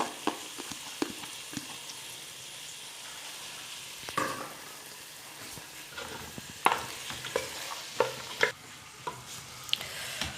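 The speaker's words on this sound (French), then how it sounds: "il faut faire revenir quelques minutes" Ingredients with cooked lentils sauté in a pan for a Kabyle dish: a low, steady sizzle punctuated by irregular scraping and clinking from a utensil stirring against the pan, with no talking.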